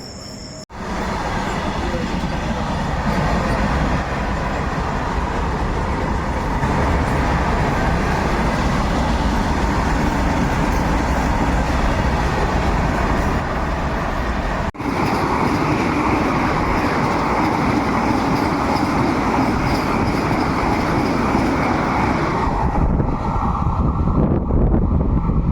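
A train rolls past at a railway station platform, a loud continuous rumble and rattle of wagons lasting most of the time, close by and steady, with wind noise over the microphone.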